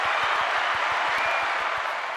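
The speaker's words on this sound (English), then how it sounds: "This guy deserves an applause." Applause from a small group at a live show, a bright wash of clapping with a few distinct nearby claps standing out irregularly, no voices.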